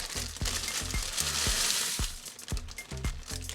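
Water comes up to a boil in a pot for smoked chicken noodle soup, a continuous bubbling hiss with a rhythmic run of soft popping pulses, close and fairly quiet, with no voices.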